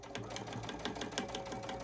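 A sewing machine stitching a dish drying mat, running steadily with a fast, rhythmic mechanical clatter, close and alone.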